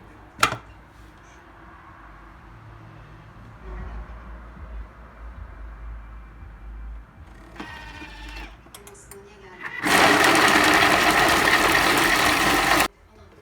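A blender purees homegrown grapes for pestil, starting as a loud, harsh whirring roar near the end and running about three seconds before it stops abruptly, after quieter handling clatter.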